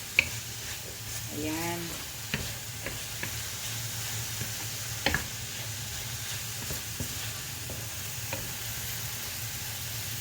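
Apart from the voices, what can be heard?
stirring vegetables and mushrooms cooking in a pan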